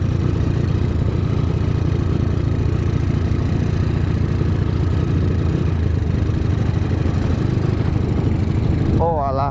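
Honda Tiger motorcycle engine fitted with a full aftermarket exhaust, running steadily and loud at close range with a dense, throbbing rumble throughout, ending with a brief higher tonal sweep.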